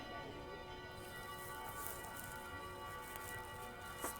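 Church bells ringing at twelve o'clock on a Sunday, a steady sustained peal with bright metallic overtones heard continuously at moderate distance, with a faint voice in the background.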